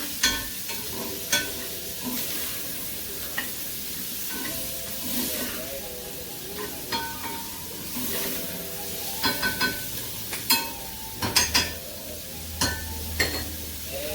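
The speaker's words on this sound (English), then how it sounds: "keep that sizzle going." Constant sizzling and hissing of peppers in a hot frying pan, with scraping stirs and clinks of a utensil against the pan throughout, close and fairly loud.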